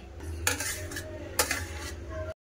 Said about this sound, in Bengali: এবার ঢেলে নেবো সবজিটা।